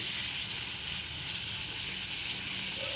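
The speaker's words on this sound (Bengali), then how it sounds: "চিকেনটা আমি লাল লাল করে ভেজে নেব।" Chicken fries in a pan over low to medium flame, making a steady, close sizzling hiss with no pauses.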